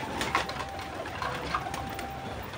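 Pigeons on a sunny rooftop coo softly and continuously, a low murmuring call close by with no talking.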